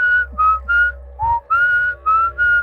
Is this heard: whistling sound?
yes